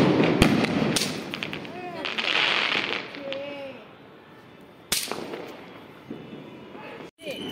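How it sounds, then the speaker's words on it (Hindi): Firecrackers set off outdoors during Diwali: a few sharp, loud bangs and crackles, some fizzing and whistling, under people talking nearby. "उधर छुड़ा रहे हैं, उधर भी बड़ा अच्छा लगा रहे पटाखे पटाखे"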